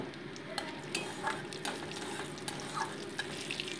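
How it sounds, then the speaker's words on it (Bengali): Whole cumin and dried red chili fry in hot mustard oil for veg dal, a soft continuous crackling sizzle close by with light stirring scrapes and no voices. "ওই শুকনো লঙ্কাটা হালকা ভাজা হতেই দিয়ে দিয়েছি গোটা জিরে"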